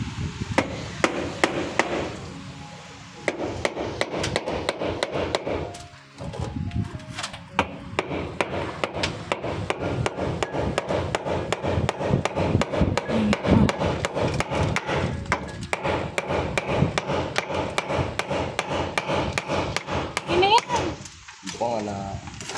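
Rapid, repeated hammer blows striking nails, loud and close, in long rhythmic runs with brief pauses, while people talk in the background.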